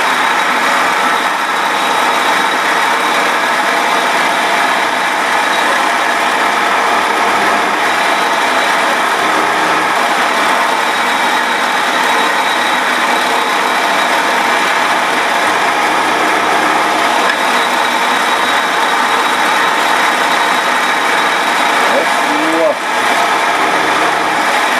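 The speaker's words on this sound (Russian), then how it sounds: "включаем станок. Ну да, обороты такие серьезные" A machine tool for making ammunition boxes runs at high speed, a loud steady whining drone with a constant engine-like hum that fills the whole stretch, close and unbroken, with brief voices faintly beneath.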